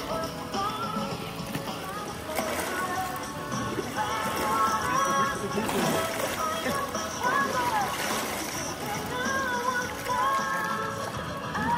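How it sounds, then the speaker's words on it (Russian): Strong counter-current water jet of a swimming trainer in a thermal spring pool in Mostovskoy, rushing and splashing steadily throughout, with voices and echoing pool ambience around it. "Мощный напор, плаваешь против течения."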